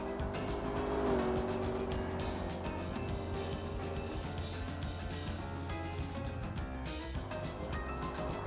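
Supercar engine in the Automation game driving through a corner on throttle, a steady droning engine note with pitch shifting slightly, loud and continuous without talking.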